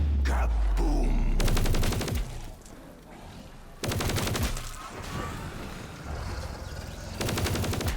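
Rapid automatic gunfire from the video game Call of Duty Cold War, loud bursts of dense firing with a quieter stretch in the middle, then more bursts.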